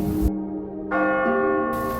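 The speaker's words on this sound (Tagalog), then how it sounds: "Naririnig ang banayad na tunog ng kampanilya sa simbahan." Rich, resonant church bell tones sounding one after another, each bright strike ringing out with lingering harmonics.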